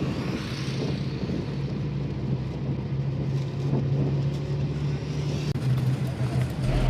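A bus cruises on a national highway in a steady, moderate engine and road drone with low tire rumble, continuous and unbroken, no talk.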